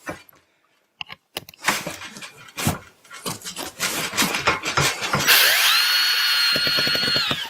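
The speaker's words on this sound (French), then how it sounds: "Et là, il suffit de visser." A power screwdriver whirs steadily as it drives a screw into an Isonat Flex wood-fibre insulation panel, following several sharp knocks and handling noises, with a high motor whine holding for about two seconds at the end.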